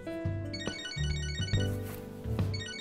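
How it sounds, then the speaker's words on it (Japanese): A phone ringtone in the video game Catherine: Full Body plays a melodic electronic tune in repeating bursts, clear and fairly soft, with no talk. "電話か。"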